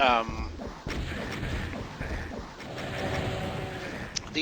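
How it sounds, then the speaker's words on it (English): Repeated rocket launches and explosions from the first-person shooter DOOM (Ultra-Violence, map E4M8 Run To Evil), with loud booming blasts over a continuous busy mix of game sound effects and monster noises. "we're just going to keep firing off more rockets"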